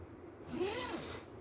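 A clothing zipper is drawn closed during a zipper repair at a sewing bench, giving a soft, close rasping slide of about half a second that rises in pitch, with faint room noise before and after.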